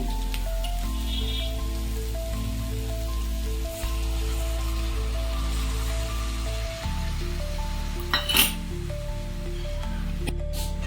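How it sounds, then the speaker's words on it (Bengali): Dissolved spice paste poured into a pan of browned onions while cooking chicken, giving a steady, hissing sizzle with crackling spatters, close and continuous. "এবার গুলে রাখা মশলাগুলোকে এখানে দিয়ে দেবো।"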